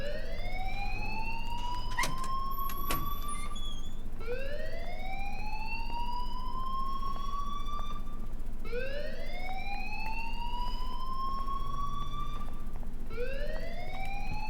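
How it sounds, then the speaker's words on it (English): Alarm siren in the video game Life is Strange Remastered, a loud repeating rising wail that sweeps up roughly every four seconds, continuous over steady background hum with no talk. "please turn off that alarm since that's your job"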